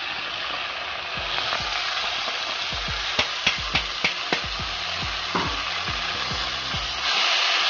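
Prepared masala being added to softened dal and stirred in a pan: close sizzling and frying under a series of sharp scraping and tapping strokes from the spoon, with no talking.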